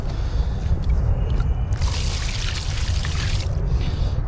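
Water is poured steadily over a freshly caught river fish, a continuous close splashing pour that swells louder in the middle, set against a constant outdoor rush with no talking.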